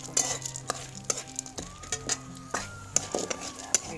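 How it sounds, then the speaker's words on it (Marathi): Dal dry-roasts in a pan over a wood-fired chulha, with repeated sharp scrapes and clinks of a spatula stirring at a quick uneven rhythm over a faint sizzle. "आता आपण डाळ भाजून घेऊ"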